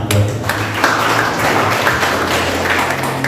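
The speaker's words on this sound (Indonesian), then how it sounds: "Berikan tepuk tangan buat Tuhan." A church congregation at a worship service applauds, sustained clapping from many hands filling the room, fairly loud and continuous with a low hum underneath.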